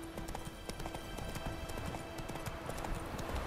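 Rapid rhythmic hoofbeats of a horse galloping in The Witcher 3 video game, a steady drumming clip-clop close up that runs through the whole stretch with no talk over it.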